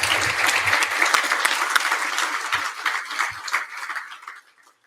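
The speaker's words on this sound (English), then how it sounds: "ask y'all to join me in giving a round of applause." Audience applause fills a shareholder meeting hall, steady and moderately loud before tapering off to silence at the end.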